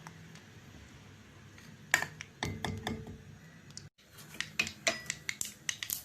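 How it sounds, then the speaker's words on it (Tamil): Mustard seeds spluttering in hot oil in a kadai while tempering for spinach kadayal, a soft sizzle broken by sharp scattered pops and crackles that grow busier after a brief pause. "கடாய் வச்சு எண்ணெய் போட்டு கொஞ்சம் கடுகு போட்டிருக்கேன் அது நல்லா பொரியட்டும்"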